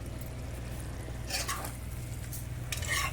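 Spiced broccoli stirred with chili powder in a hot pan: a low, constant sizzle with a couple of brief scraping stirs close by, no talking.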